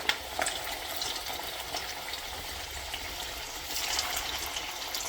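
Shami kebabs with raw egg frying in a pan, a steady hissing sizzle with faint crackles throughout, close and continuous with no voices.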